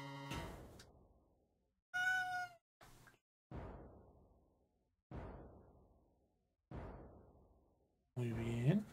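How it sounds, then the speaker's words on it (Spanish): A domestic cat gives one short, clear meow amid a series of separate knocking thuds that ring out and fade in a quiet indoor space. "mi gato acaba de maullar"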